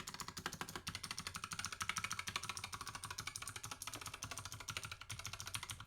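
Rapid, steady typing on a Razer Huntsman Mini mechanical keyboard, a close, continuous run of sharp clacky keystrokes with no pauses and no talk.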